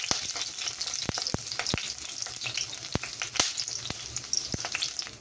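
Green chillies sizzle in hot oil with garlic and ginger for a chicken curry, a steady close frying hiss broken by sharp pops and crackles, with no talking.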